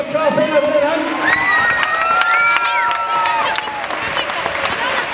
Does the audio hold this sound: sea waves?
no